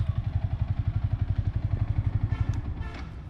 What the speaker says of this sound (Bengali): এই হচ্ছে বাইকের সাউন্ড